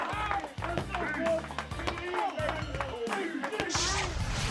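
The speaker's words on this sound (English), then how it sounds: "while the entire dressing room claps in approval" A boxing dressing room claps along during pad work with a fast-fisted fighter, the claps quick and irregular, mixed with punches on hand pads, a bouncing rhythm and nearby voices talking.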